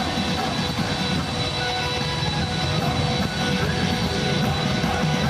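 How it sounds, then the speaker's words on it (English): Engines of the presidential aircraft carrying Donald Trump on arrival in Malaysia, a loud, steady, deep broadband roar that holds constant throughout with no talk over it. "The sound of the engines hums deeply in the air"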